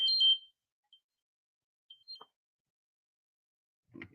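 A phone alert goes off during a wrestling podcast recording, giving a short cluster of close electronic beeps followed by a few fainter isolated chirps amid near silence.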